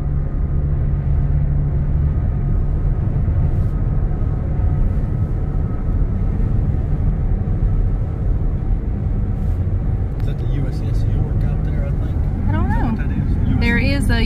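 Steady broadband traffic rumble of cars crossing a bridge, continuous and fairly loud throughout, with people talking over it.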